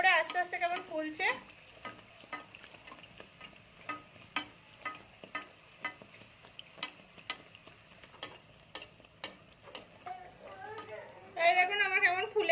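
Dough frying and puffing up in hot oil, a quiet continuous sizzle marked by evenly spaced soft clicks from a spoon or spatula, with someone talking at the beginning and near the end.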